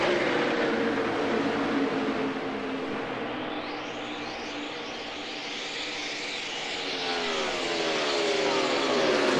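NASCAR Cup Series race cars at high RPM pass in a continuous loud, high-pitched engine whine that rises and falls in pitch as cars go by, with some commentary underneath.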